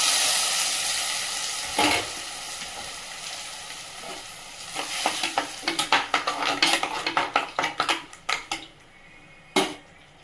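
Ground masala sizzles in hot oil for paneer kuzhambu while a utensil stirs and scrapes the pan in quick, uneven bursts, close and fairly loud.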